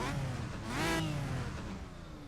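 An Aston Martin race car engine in Project CARS revs up and falls back, a smooth rising-and-falling whine with no talking.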